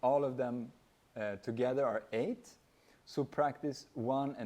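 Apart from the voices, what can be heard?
No distinct noise like a dog, phone or traffic.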